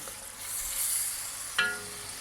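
Soft, faint scraping and swishing as nearly eight litres of Mexican soup is stirred in a pot, with a single light metallic clink partway through.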